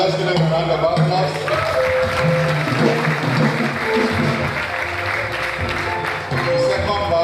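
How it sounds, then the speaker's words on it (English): Audience at a medical and dental graduating class induction ceremony applauds in a sustained wash of clapping, blended with crowd murmur and some talk, and a faint tonal background runs underneath. "now let's give them a round of applause"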